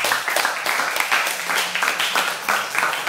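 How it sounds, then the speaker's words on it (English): Round of applause for a jiu-jitsu competitor from a small live audience, with scattered, uneven clapping in bursts, fairly close and moderately loud. "Brent Alvarez, nice round of applause, guys."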